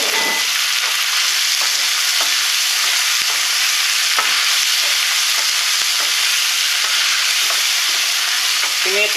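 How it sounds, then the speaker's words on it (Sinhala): Tofu and bitter melon stir-fried in a pan with meat and dried fish, making a loud continuous sizzle with scattered scraping stirs, close up and without speech. "අපි මේකට එකතු කරනවා අපි පළමුවෙන්ම ඉස්සෙල්ලා කපාගත් tofu ටික."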